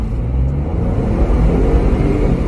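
A 2022 Ford Bronco Wildtrak two-door, shifted into manual, pulls away hard from a brake-boosted launch, giving a loud, steady engine rumble and drone heard from inside the cabin for the whole stretch.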